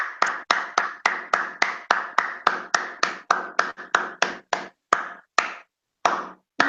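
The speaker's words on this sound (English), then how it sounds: "Let me clap again" A room full of people claps hands after a business presentation: a quick, steady run of sharp, loud claps that fades into a few scattered final claps near the end.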